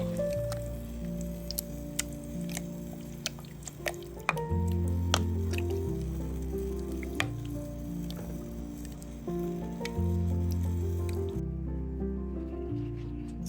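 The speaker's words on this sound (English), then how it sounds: "And you're going to stir that all together. Heat it up good." Thick lasagna sauce is stirred and heated in a pan, giving steady wet squishing, soft bubbling and drips throughout, close and fairly quiet.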